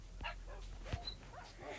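Dogs whimpering and yipping in Minecraft as they burn in a fire, with short, faint cries scattered over a low, steady game background.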